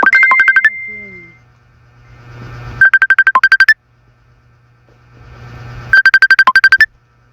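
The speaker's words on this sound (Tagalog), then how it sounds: "Uy, may tumatawag sa akin." A mobile phone ringtone sounds for an incoming call: a loud, close electronic melody of rapid beeping notes, repeated in three bursts with quieter gaps between them.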